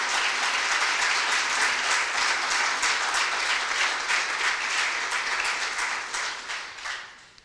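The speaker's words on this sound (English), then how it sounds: "Can you give my children a round of applause" Enthusiastic applause from a crowd at a mentorship launch event, dense rapid clapping that holds steady for several seconds before gradually thinning and fading out.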